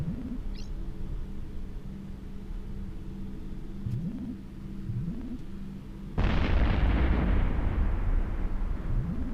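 Space combat in the EVE Echoes game: a Revelation ship's high-angle pulse weapons fire at NPC ships, with a steady low hum of repeated shots and a sudden loud, roaring broadband explosion bursting in near the end and lingering.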